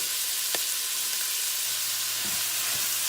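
Ground beef frying in a soup pot gives a steady soft sizzle throughout, with a couple of faint stirring scrapes and a low brief hum near the end.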